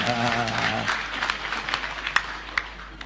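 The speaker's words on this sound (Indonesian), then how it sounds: "Kita beri tepuk tangan untuk ulang tahun." Audience clapping at an anniversary celebration event, scattered applause that follows a voice at the start and fades into individual claps.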